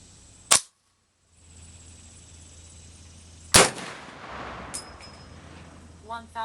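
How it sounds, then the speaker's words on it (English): Two sharp, loud rifle shots from a .450 Bushmaster loaded with 35 grains of powder, one near the start and one about three seconds later, each followed by a brief decay, then faint metallic action sounds as the rifle cycles. "All right, 35 grains."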